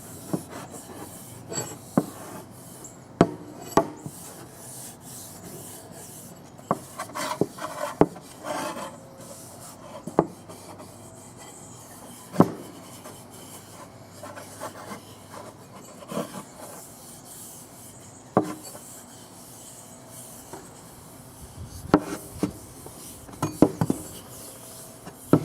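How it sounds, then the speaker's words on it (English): Boiled linseed oil being rubbed by hand into the wooden handle of a Bahco axe, giving close, dry scraping and rubbing strokes in uneven bursts with scattered sharp knocks, and no talking. "we're just going to rub some boiled linseed oil into it"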